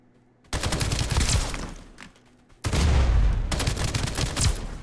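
Two sustained bursts of rapid automatic gunfire from the video game Escape From Duckov, loud and close, separated by a short lull, with no talking.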